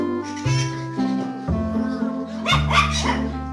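A Pomeranian (Lulu da Pomerânia) dog barks in a rapid series of sharp, high yaps close by, with some whiny yips mixed in and no speech.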